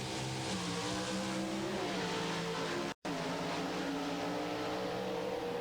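Pro Stock drag race cars at a 1991 NHRA Budweiser Pro Stock Challenge roar down the strip, engines screaming at high revs and rising in pitch as they shift gears, loud and continuous apart from a brief dropout.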